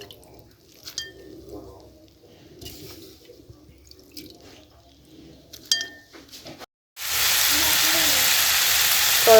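Bitter gourd and onion dropped into a hot karahi, starting with quiet kitchen clinks and drips before a loud, steady frying sizzle bursts in and holds to the end.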